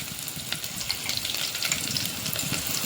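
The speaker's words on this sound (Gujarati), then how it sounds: "એ ડુંગળી નાખે છે હવે આ ડુંગળીને ડુંગળી ચડી જાય ત્યાં સુધીને હલાવવાની છે" Chopped onion frying in hot oil with a steady, close sizzle, and a spoon stirring and scraping through the pan, with no talking.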